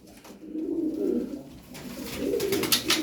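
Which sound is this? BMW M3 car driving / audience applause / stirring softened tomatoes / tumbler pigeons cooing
tumbler pigeons cooing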